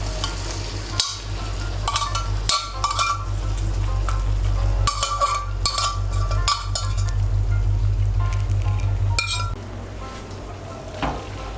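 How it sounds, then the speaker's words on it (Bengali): Boiled mixed dal, cooked in a pressure cooker, is stirred into fried spice masala in a pan, giving a steady sizzle under repeated scraping and clinking of a spoon against metal, close and fairly loud, without talk. "ডালটা ভালো করে মশলার সঙ্গে মিশিয়ে নেব।"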